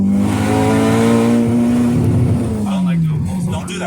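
A turbocharged K24-swapped Acura RSX pulls hard under boost: a loud, steady engine drone with strong harmonics holds, then drops in pitch partway through, as if at a gear change, with people talking over it inside the car.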